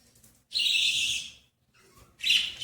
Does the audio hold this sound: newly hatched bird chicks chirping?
yes